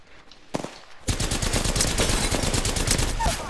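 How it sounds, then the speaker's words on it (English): Rapid automatic gunfire in a squad-based video game firefight, sustained and loud, with a short burst near the start before dense continuous firing. "Opening fire."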